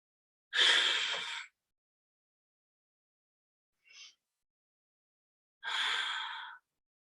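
Three slow, deep breaths during a guided yoga practice: two long, full exhalations a few seconds apart framing a brief, softer intake between them, close and alone in otherwise quiet surroundings.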